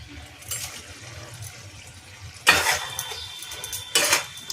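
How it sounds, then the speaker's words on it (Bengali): Prawn heads and eggplant with turmeric are stirred in a cooking pot, a few sharp scraping clatters of a utensil against the metal over a soft background, with two louder strokes near the end. "এবার এইটা দিয়ে নাড়াচাড়া করে নিচ্ছি"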